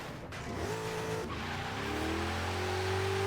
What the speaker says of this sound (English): 4th gear wheel spin when I set off